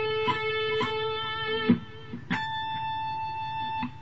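Clean electric guitar plays a few single notes climbing higher, each picked clearly and sustained, ending on a held high note.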